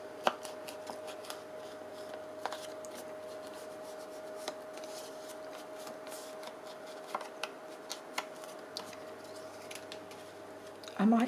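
Scissors snip a paper stencil in short, quiet, scattered cuts over a faint steady hum, with a louder rustle at the very end.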